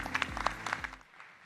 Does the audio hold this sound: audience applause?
yes